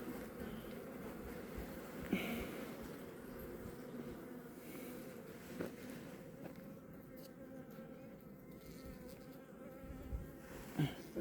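Honeybees buzz during a beehive inspection at an apiary 1,050 meters up as the colony heads into winter. A dense, continuous hum of many insects stays close, with a few louder passes near the microphone.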